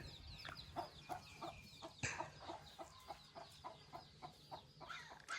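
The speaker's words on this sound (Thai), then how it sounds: "ไก่ทุกคน" Chickens cluck in short repeated bursts at a rural Lao family home, a fairly faint, irregular series of clucks with one sharper call, outdoors with no speech.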